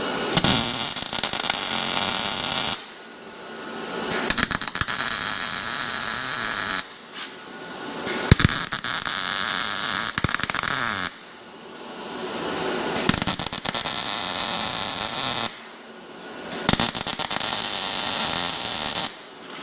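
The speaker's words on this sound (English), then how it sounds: "I've got to weld through that sometimes." Metal being welded, sometimes through coating or residue: long stretches of loud, crackling, buzzing arc noise, each lasting a few seconds and separated by short pauses, close up and with no talk.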